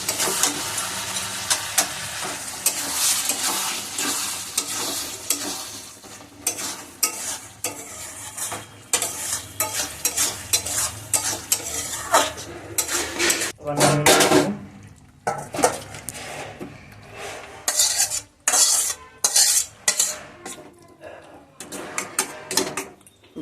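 Shrimp cooked with bottle gourd sizzles in a pan while being stirred, with bursts of scraping and clattering against the pan coming and going in irregular spurts over a steady frying hiss.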